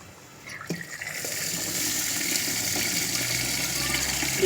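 Rice being washed in water for chicken biryani, with water poured in and sloshed, a continuous near gushing and swishing sound that builds after a brief quiet start.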